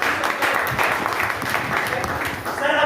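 A crowd at a business meeting applauding a guru, dense clapping running throughout, fairly close, with a few voices mixed in.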